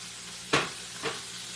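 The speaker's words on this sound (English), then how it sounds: "You see her make 12 hush puppies while I'm over here frying one." Hush puppies fry in hot oil, a loud bursting sizzle as batter drops in, followed by a second smaller hiss over a steady background crackle, with no talking.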